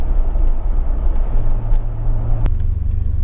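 A DeLorean's engine and exhaust run steadily with a loud, close, low rumble. The note shifts slightly partway through, and no one speaks over it.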